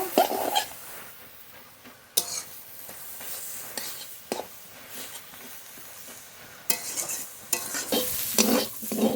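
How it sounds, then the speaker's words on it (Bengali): Bottle gourd greens stir-fried in a pan, with repeated scraping strokes of a spatula rising out of a low sizzle, bunched irregularly and growing busier toward the end. "নেড়ে নেড়ে ভেজে নেব"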